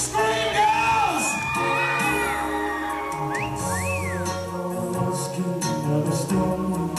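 A crowd of girls screams and whoops for an Elvis Presley act on stage, with high wavering shrieks and shouts over a dense cheering din, loud and sustained throughout.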